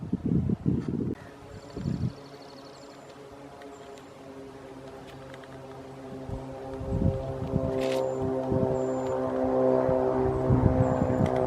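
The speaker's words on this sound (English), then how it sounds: "Float plane's taking off." Float plane taking off near a quiet trail in Sitka, Alaska, its propeller engine drone rising steadily from a distance while nearby footsteps and rustling continue.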